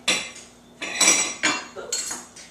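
A big metal spoon clinks and clatters against dishes as it is set down to the side, several short close knocks in quick succession with no talk.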